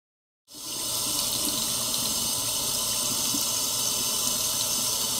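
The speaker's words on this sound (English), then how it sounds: "So I like to wash my face with hot water." Hot water runs steadily from a sink tap for face washing, starting abruptly and continuing as an even, close rush with no talk.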